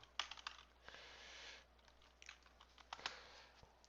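Quiet, close typing on a computer keyboard while entering an Excel function, a few scattered clicks in short bursts with pauses between them.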